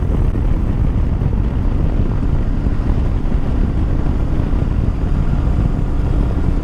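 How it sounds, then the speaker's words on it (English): A Honda NX500 adventure motorcycle, 2025 model, rides in one gear, its engine a steady, continuous drone heavily mixed with rushing wind noise throughout, with no talking. "You can just keep this bike in a gear and it will do anything you need it to from the very, very low RPMs all the way up to the top"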